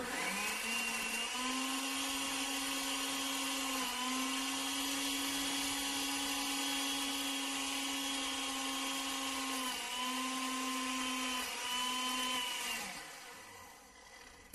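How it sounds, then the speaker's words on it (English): A blender motor whirs loudly and steadily for about thirteen seconds, with a brief dip in pitch partway through, then winds down near the end. "we're going to start up this blender, and it's going to be a little noisy"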